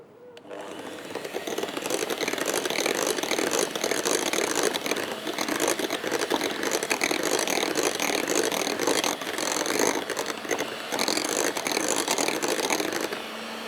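A Pakistani-style kitchen electric mixer runs on low speed, folding whipped cream for a mango cheese pie: a steady, fairly loud whirring drone with faint rhythmic ticking, starting after a quiet moment and continuing throughout without talk.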